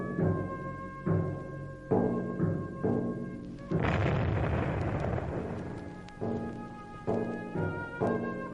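Soldiers firing guns as a radio-drama effect: a series of heavy booming volleys at roughly one-second intervals, broken by a longer rumbling blast in the middle, loud and close with no voices.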